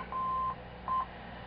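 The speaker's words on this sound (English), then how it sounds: "This is a local beacon." Local CW beacon tone from a ham radio receiver: two clean beeps, a longer one then a short one, sounding over faint receiver hiss.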